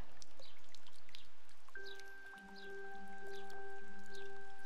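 Rain drips in the video game Omori as soft, scattered droplets fall at a quiet, irregular rate. Faint held musical tones come in partway through.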